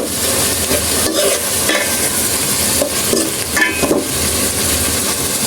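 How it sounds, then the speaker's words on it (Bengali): Boiled eggs frying in a pan while being stirred, a loud constant sizzle with repeated scraping and clinks of the spatula, no voices. "সিদ্ধ করা ডিমগুলো দিয়ে দিব। ডিমগুলো দিচ্ছে এই কারণে যাতে ডিমগুলো একটু ভাজা হয়।"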